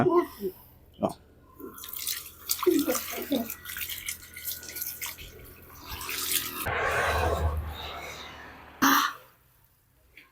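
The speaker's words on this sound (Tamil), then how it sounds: "அவங்கள வந்து ஒரு தண்ணி இதிலே ஊற்றிடலாங்களா" Water is poured from a vessel to bathe an elderly woman, heard as splashing bursts and a longer loud gushing pour, with voices and throat clearing between the splashes.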